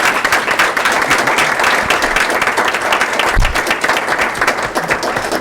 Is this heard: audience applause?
yes